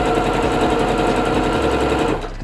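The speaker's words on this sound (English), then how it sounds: "you just want to sew straight down, like this" A sewing machine stitches fabric for a scrunchie in a steady, fast, even whir that runs close and loud without a break, then eases off in the last moment.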